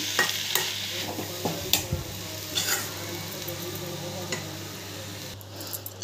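A spoon stirs lightly boiled moong dal through a hot pan, giving soft scraping clicks and wet squishes at an irregular pace over a faint sizzle, close by with no talk.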